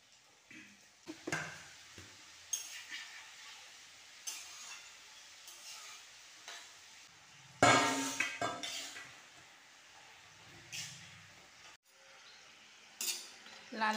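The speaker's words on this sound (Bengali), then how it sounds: "তেল গরম হয়ে গেছে, এবার আমি লালচে করে এগুলো ভেজে নেব।" Strips of sugar gaja dough frying in hot oil, a quiet sizzle broken by sharp stirring clinks and scraping of a utensil in the pan, with a louder splash-like burst midway.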